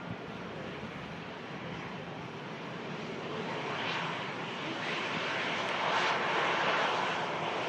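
Ryanair Boeing 737 airliner taxiing at Manchester Airport after arriving from Oslo, a steady broadband jet engine roar that swells gradually and peaks near the end, with outdoor wind noise and no talking.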